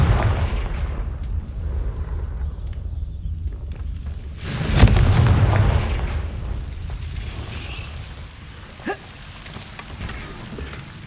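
A Confringo blasting spell in Hogwarts Legacy detonates midway as a single loud, booming burst over a rumbling, rain-like ambient bed, followed by a smaller thud a few seconds later.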